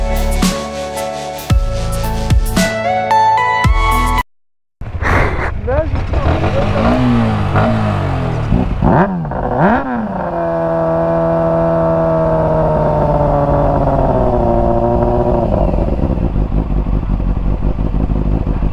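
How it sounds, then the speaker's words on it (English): A 2021 Yamaha YZF-R125 motorcycle engine revs hard at close range, with sharp rising and falling throttle blips that settle into a sustained high-pitched drone, following a brief silence near the start. "That sounds like a proper bike."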